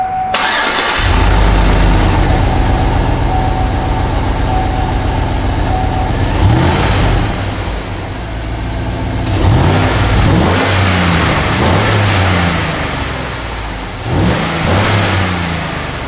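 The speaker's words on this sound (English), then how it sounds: "Cold engine start with the K&N Air Filter." A pickup truck fitted with a K&N air filter cold-starts and settles into a steady, loud idle, with a few throttle blips rising and falling. It is heard close up with no talk over it.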